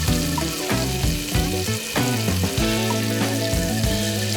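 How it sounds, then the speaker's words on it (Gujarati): Carrot mixture for gajar halwa ladoo sautés in hot pure desi ghee in a pan, a steady sizzling hiss running throughout with strong tonal music layered over it. "હવે એક પેનમાં 2 ચમચી શુદ્ધ દેશી ઘી ગરમ કરો અને તેમાં આપણું ગાજરનું મિશ્રણ ઉમેરો"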